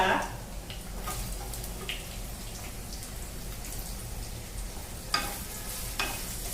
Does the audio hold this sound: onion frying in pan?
yes